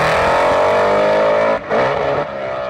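A Hemi-powered drag racing car engine screams at very high revs, loud and close, with a brief dip in pitch before it surges again and settles.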